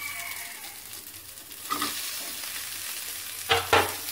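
Tomato, coriander leaves and mint sautéing together in a pan into a paste for a palak paneer gravy, a continuous hissing sizzle broken by a few louder stirring scrapes against the pan.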